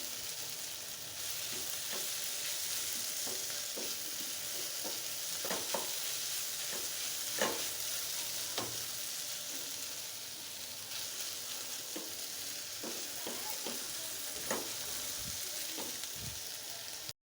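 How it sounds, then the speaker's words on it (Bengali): Snake gourd frying with salted hilsa in a pan, a continuous sizzle of oil with repeated scraping clicks of a spatula stirring at irregular intervals, close and steady with no talking. "আরও কিছুক্ষণ ভেজে নেব।"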